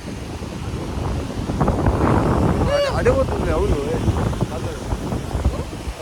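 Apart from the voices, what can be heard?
wind blowing at Hoode beach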